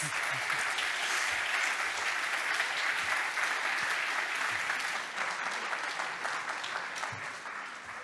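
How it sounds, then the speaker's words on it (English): Audience applause in a conference plenary hall on consciousness and reality, dense continuous clapping that stays loud and then thins and softens toward the end. "Let's give him another round of applause."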